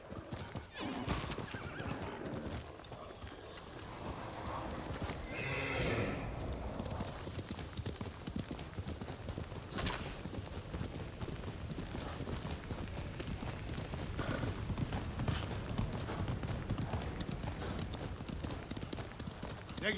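Horse in the video game Ghost of Tsushima, with rapid clip-clop hoofbeats of a gallop and a loud neigh near the start, all under game music and occasional talk.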